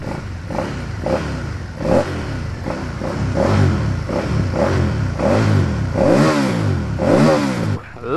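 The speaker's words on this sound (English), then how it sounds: "let's go ahead and start the bike up" A 2015 Aprilia Caponord motorcycle engine starts and roars nearby, revving up and down in repeated loud bursts with a rough, rumbling clatter between throttle pulls.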